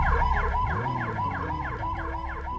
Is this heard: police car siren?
yes